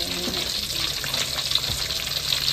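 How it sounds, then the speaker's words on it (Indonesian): Catfish (lele) frying in hot oil in a home kitchen, giving a steady broadband sizzle and crackle that runs continuously at moderate loudness with no talk over it. "Ini kan masih goreng. Lele."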